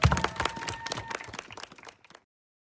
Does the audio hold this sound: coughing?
no